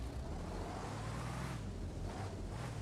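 A truck engine in the video game Arma Reforger drones steadily while driving, a continuous low rumble with road and wind noise and no clear changes.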